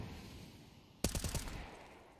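Gunfire in a Counter-Strike match at a pro tournament: a sudden burst of rapid shots starts partway through, following a quiet stretch of low game ambience, and a faint click comes near the end.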